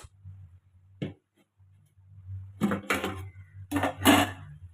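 A short metallic clink of a lid lifted off a pot of boiling coconut milk for rice over a low stove hum, followed by voices talking.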